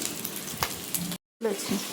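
Fish frying in a pan gives a crackling, close sizzle that cuts out briefly for a moment of silence and then resumes.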